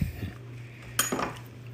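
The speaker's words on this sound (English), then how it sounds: "And I'm gonna grab a knife." Metal cutlery rattling among kitchen utensils as a knife is picked out while making butter-rich sourdough biscuits, a brief clatter of a few close clinks over a low steady hum.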